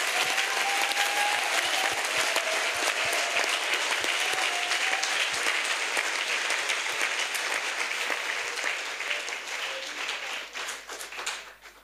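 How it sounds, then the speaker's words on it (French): A church congregation claps in praise of Jesus, sustained lively applause with rhythmic hand claps and faint voices or singing underneath, steady throughout before tapering at the end. "Let's clap for Jesus."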